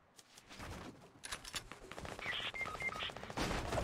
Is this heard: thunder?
no